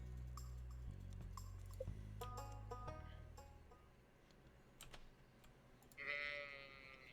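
A sheep in the farming video game Stardew Valley gives one short bleat near the end, after a stretch of keyboard tapping and low game background hum, with no talking.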